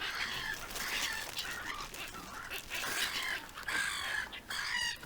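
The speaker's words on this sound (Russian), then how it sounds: "Смотрите, это целая стая чаек." A flock of gulls squabbling over food thrown at a winter feeding alongside swans and nutria, heard as overlapping harsh cries and calls, continuous and lively at a moderate distance.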